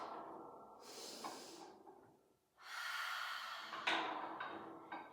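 Slow breaths during a Pilates chair exercise, a long airy exhale, a pause, then a deeper inhale and another strong breath, close and audible with no talking.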